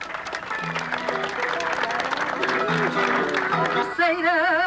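An audience at a 1991 bullfight on Terceira breaks into clapping, a dense patter of many hands mixed with scattered voices, while singing and musical tones rise over it toward the end.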